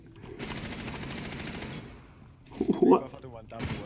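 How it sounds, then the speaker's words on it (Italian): Gunshots are fired at a wall in Rainbow Six Siege, including a rapid automatic burst early, then louder clustered shots near the end. Players talk over and between the bursts. "ho sparato a caso su un muro"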